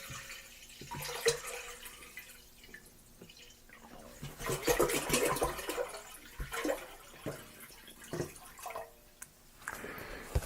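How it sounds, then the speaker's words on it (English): One gallon of filtered water poured into a pot while making dried mango wine, a splashing, gushing stream that swells midway and continues unevenly with small spatters, close by with no talk. "And as for our remaining water, we're going to go ahead and pour that in."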